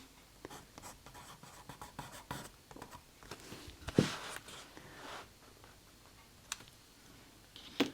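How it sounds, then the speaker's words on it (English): A name being written on a still-wet painting, faint close scratching and tapping strokes of the brush or pen in short bursts, with a few sharper clicks, no talk. "I'm going to write my name just here."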